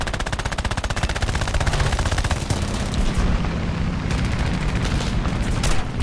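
A Ki-10 fighter plane's machine guns in War Thunder fire in a rapid, unbroken stream of loud, evenly spaced shots, close and continuous over the engine drone, with no talk.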